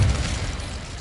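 An Incendio fire spell is cast in Hogwarts Legacy, a short, loud, low whooshing burst that fades over about a second.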